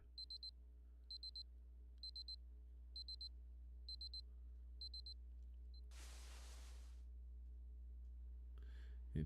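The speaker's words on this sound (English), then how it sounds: "I hear the sound of a very familiar alarm." A familiar alarm clock from the video game Fate/Grand Order rings in short, evenly spaced beeping bursts, clear and alone, then gives way to a brief swish of noise near the end.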